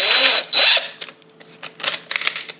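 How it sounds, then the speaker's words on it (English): A power drill fitted with a tip assembly whirs in short bursts, a loud opening run followed by fainter intermittent spins and mechanical clicks, close by with no talking. "I put this whole assembly into the drill."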